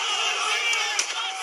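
A crowd of protesters in the street, a loud mass of shouting and yelling voices merging into a continuous roar over a brief moment.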